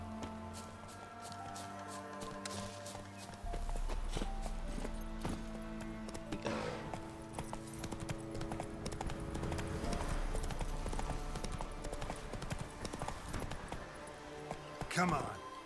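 Roach, Geralt's horse in The Witcher 3, trots with steady clip-clopping hooves throughout, joined by a brief whinny late on, all set against layered game music and ambience.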